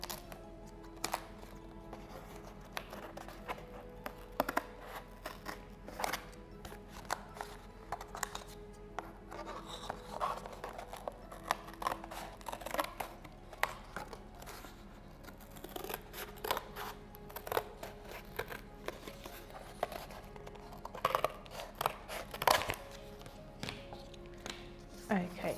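Scissors snip through paper template strips for a gingerbread house, a quick run of small crisp cuts and light taps close by, with faint background noise and no talking.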